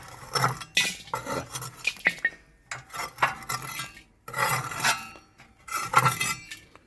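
Burnt ash waste is scooped out of a home incinerator in a run of scraping, clinking metallic strokes with brief pauses between scoops, close and moderately loud, with no talking.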